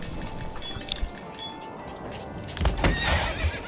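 A horse in the video game Manor Lords whinnies loudly over a steady ambient bed, with clip-clopping hooves and faint clinks following near the end.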